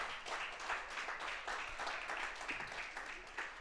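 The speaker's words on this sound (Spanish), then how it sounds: "De un aplauso al Señor." Church congregation applauding during a Spanish-language service, a faint, dense wash of many hands clapping in soft waves heard from a distance.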